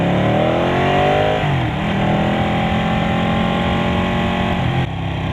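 Engine of a 2015 Ducati 899 Panigale sport motorcycle, loud and aggressive, revving and shifting through gears with pitch rising, dipping and climbing again, close and continuous throughout with no talking.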